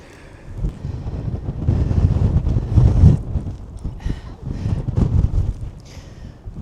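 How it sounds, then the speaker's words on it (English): Strong wind buffets the microphone on an open hillside walk with sheep nearby, a steady low roar swelling in gusts around the middle and again later, loud and close throughout. "Oh, it's so windy."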